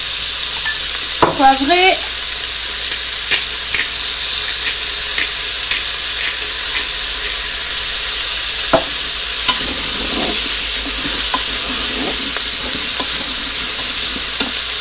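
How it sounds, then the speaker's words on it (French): Chicken with bacon, carrots and potatoes stirred in a pan, a soft background sizzle punctuated by sharp, regular spoon clicks against the pan, with a brief spoken word near the start. "On mélange. On va saler."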